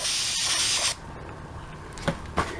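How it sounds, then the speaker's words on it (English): Red spray paint hisses steadily from an aerosol can onto a Warhammer 40k Blood Angels Predator tank model, a close continuous spray that stops abruptly, followed by a few quieter short bursts. "Not necessarily gonna get upset if we run out of spray paint."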